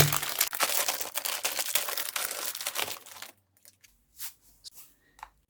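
Plastic packaging around a Brita water filter pitcher is torn and crinkled for about three seconds of loud, dense rustling, then a few faint scattered crackles follow after a pause.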